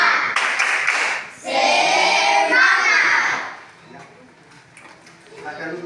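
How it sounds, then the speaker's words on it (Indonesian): Standing schoolchildren in a classroom perform the 'tepuk semangat' spirit clap, a dense burst of rapid clapping and voices lasting a couple of seconds, then fading into quieter chatter. "Coba semua berdiri, kita tepuk tangan dengan tepuk semangat."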